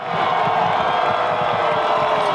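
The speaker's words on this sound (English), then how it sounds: "The fans, the crowd, this is what high school football is all about." A high school football crowd at a West York vs Gettysburg game roars steadily and loudly, a dense wash of cheering and shouting voices filling the whole stretch without letup.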